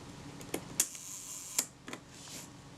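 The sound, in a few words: camera shutter firing at 1 second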